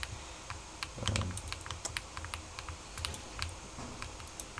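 Computer keyboard typing during a Minecraft session: quick scattered clicks in irregular bursts, near and moderately soft, with a short thump partway through and no talking.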